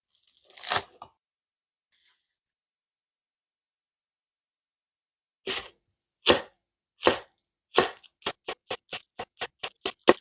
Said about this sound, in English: Three stems of spring onion finely sliced.